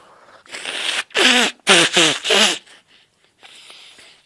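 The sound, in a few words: nose blowing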